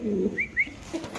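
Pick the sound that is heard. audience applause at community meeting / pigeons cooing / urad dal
pigeons cooing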